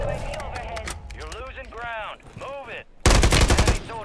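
Pistol fire in Call of Duty Warzone: after a stretch of excited talking, a loud, rapid volley of close gunshots cracks out for about a second.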